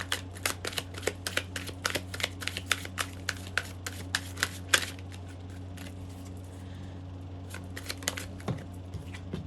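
Tarot cards being shuffled by hand, a quick run of crisp riffling snaps and flicks in bursts, close and fairly quiet over a steady low background hum, with no talking.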